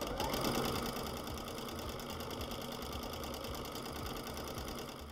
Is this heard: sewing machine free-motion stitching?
yes